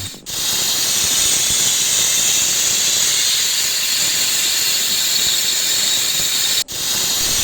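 A pressure cooker cooking sweet potato and carrot on a stove hisses out steam in a loud, steady stream that runs almost unbroken, cutting off briefly near the start and again toward the end.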